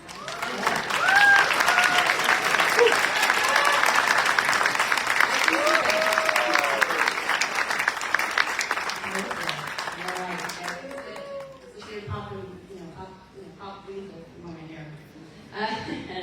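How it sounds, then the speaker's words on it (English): Applause for honors graduates at a college graduation ceremony, a sustained crowd clapping with scattered cheers that thins out toward the end as a voice begins talking. "let's give them a round of applause for their accomplishments"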